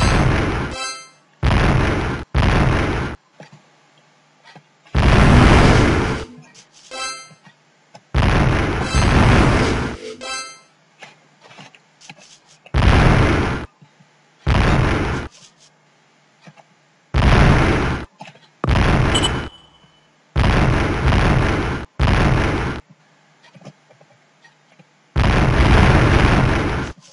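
Repeated loud bomb blasts from the Dynablaster Revenge video game, a rapid series of booming explosions in bursts with short silent gaps between them, no talking.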